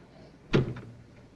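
A single sharp clunk as a box of .22 cartridges is shut, close and brief, standing out against a quiet background.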